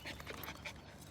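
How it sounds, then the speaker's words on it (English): A black dog pants close by on a mountaintop with a pack of dogs, giving quick soft breathy huffs with a faint whimper. "Now this black dog,"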